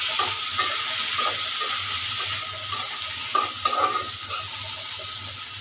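Potatoes and onions frying in oil with salt in a pan, a steady close sizzle with a few scraping stirs of a utensil against the pan, no talking.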